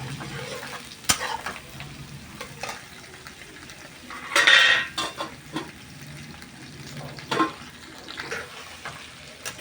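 Drumsticks, cucumber and tomato cook in a pan with a soft steady sizzle, broken by occasional scrapes and clinks of a spoon stirring against the metal, close and moderately quiet.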